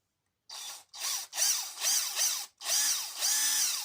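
A cordless impact driver drives a screw in a series of rattling, hammering bursts, each a second or so long with short pauses between, loud and close with no talk over it.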